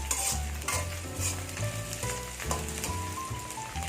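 Peeled garlic frying with onions in a pan for mutton sukka, a steady close sizzle broken by scraping stirs of a spoon, alone with no voices.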